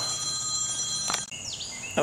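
A mobile phone rings with a faint, steady electronic ringtone that holds its pitch, with a short sliding tone partway through and a brief knock between.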